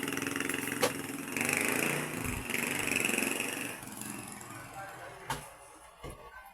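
A motorcycle tricycle arrives in Santolan with a steady, close engine drone that gradually settles and fades a little toward the end.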